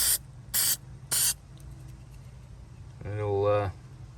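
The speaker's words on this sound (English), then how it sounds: "you just spray a little bit of this on." Three short hissing bursts of a Dupli-Color Industrial Strength aerosol paint stripper spray can, close by, followed by a brief voice.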